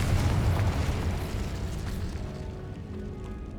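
Confringo, a fiery explosive spell cast in the Hogwarts Legacy video game, lets out a loud, dense rumbling blast that fills the whole moment and slowly fades into a lingering low roar.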